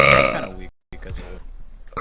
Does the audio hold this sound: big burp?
yes